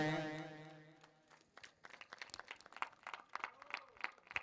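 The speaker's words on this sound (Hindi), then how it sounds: "जोरदार ताली बजाएं।" Audience applause at a village bhajan singing competition: a voice trails off, then a crowd breaks into brisk, crackling clapping that builds and carries on, moderately close.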